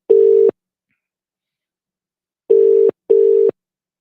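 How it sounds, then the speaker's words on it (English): A telephone ringing tone sounds loudly in three clean bursts, one long tone followed after a pause by two closely spaced ones, with silence between. "It's still ringing."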